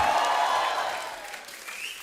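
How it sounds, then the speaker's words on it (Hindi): Studio audience of a Hindi TV comedy talk show, The Kapil Sharma Show, applauding as the film's director and an actress walk on, a steady wash of clapping that slowly fades, with no talking over it. "आप सबकी जोरदार तालियों के बीच प्लीज वेलकम फिल्म के डायरेक्टर मिस्टर अनुभव सिन्हा और साथ में वेरी ब्यूटीफुल एंड्रिया कैविचूसा।"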